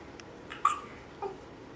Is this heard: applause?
no